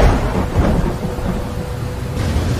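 Steady heavy rain with low rolling thunder fills the clip as an added sound effect, loud and continuous with no voices.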